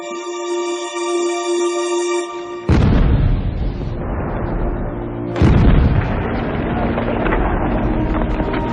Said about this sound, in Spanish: en breves momentos se va a producir una explosión